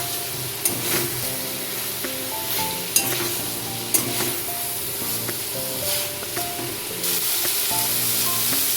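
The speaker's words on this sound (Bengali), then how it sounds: "এবার ভেজে রাখা পনিরটা দিয়ে মশলার সাথে কিছুক্ষণ নাড়াচাড়া করে দিচ্ছি।" Fried paneer tossed with spices in a pan sizzles steadily while a spatula scrapes and taps the metal in an uneven rhythm, with a faint tonal hum underneath.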